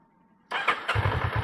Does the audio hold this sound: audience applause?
no